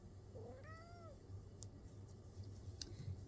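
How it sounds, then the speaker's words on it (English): A pet cat meows once, a drawn-out rising and falling cry at close range, over a low indoor hum with a couple of faint clicks afterward. "That is our cat Hope that you're hearing"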